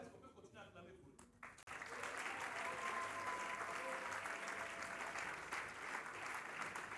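A church congregation at a revival service bursts into sustained, dense applause after a short spoken moment, the clapping steady and fairly distant as it fills the hall.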